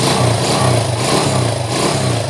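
A motorcycle engine runs steadily and loudly up close after a top overhaul, the candidates being a TMX155, Wave100 or Fury125, with an even, smooth idle and no talking.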